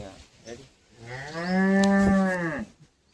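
A cow lowing once in a long, loud, close moo in the early morning before milking, with quiet farm background before and after.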